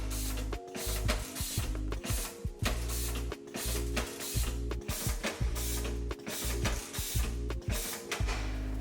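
An MMS revolver button-wrapping machine running, with loud, rhythmic mechanical clatter and ratcheting clicks repeating in quick regular cycles, close and continuous with no talk.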